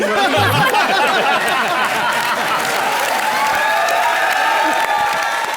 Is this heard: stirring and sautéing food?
no